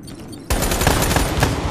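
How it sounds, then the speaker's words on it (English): Shotgun fire in Black Ops 3 erupts abruptly after a quieter lead-in, a loud, dense burst of close gunfire and game noise that continues to the end. "Oh my gosh, you had a shotgun!"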